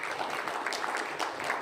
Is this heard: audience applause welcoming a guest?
yes